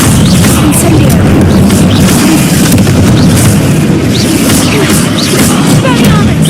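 Hogwarts Legacy's Incendio fire spell unleashes a loud, continuous roaring blast with crackling bursts throughout, with a voice talking over it.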